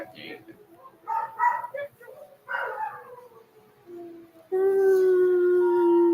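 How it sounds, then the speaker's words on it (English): Dogs howl in a few rising and falling bursts, then one long, loud, sustained howl closes it out near the microphone. "let our pups do their howling"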